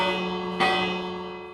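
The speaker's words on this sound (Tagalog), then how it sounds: "Nagpapanik yung mga villager pag nakarinig sila ng bell." A single village bell in a video game strikes once, clear and resonant, its ringing tone sustaining and slowly fading over a steady droning backdrop.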